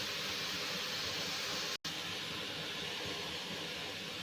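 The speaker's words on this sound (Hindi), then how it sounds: "मैं कीमा पहले डाल रही हूँ, थोड़ा सा इसको मैं कीमे को ऐसे ही कच्चा फ्राई करूँगी बिना ऑयल के" Raw minced beef (qeema) frying dry in a pan without oil, a steady broadband hiss and sizzle throughout with one brief dropout partway, close and even in level.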